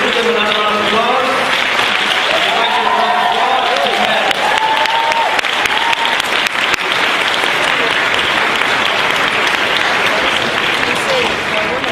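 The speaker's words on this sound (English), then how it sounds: "Let's give them another round of applause." Loud, sustained round of applause from a debate audience at a university competition final, dense clapping filling the whole stretch with some voices and cheers mixed in at the start.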